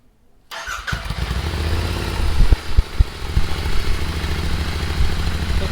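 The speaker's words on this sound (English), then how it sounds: "So this is how the bike sounds at idle." An Interceptor GT 650 motorcycle fitted with an AEW megaphone exhaust and baffles fires up after brief silence and settles into a close, steady, thumping idle with occasional sharper pops.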